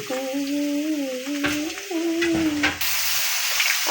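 Garlic, bay leaf, turmeric and spices fry in oil with a loud, close hiss as they are stirred, and a wavering tonal whine runs over the sizzle for the first few seconds.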